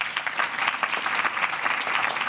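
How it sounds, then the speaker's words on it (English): An art audience breaks into dense, sustained applause, many hands clapping together in a steady, full roar that carries on without pause. "We should give them a big round of applause"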